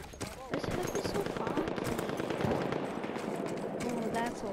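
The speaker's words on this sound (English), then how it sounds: "Ooh, that's a lot of gunfire." Heavy gunfire on a foggy Battlefield 1 battlefield, dense rapid machine-gun bursts and scattered shots crackling continuously at close to mid range, with a voice speaking over parts of it.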